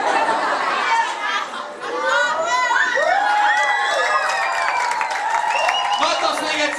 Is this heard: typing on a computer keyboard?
no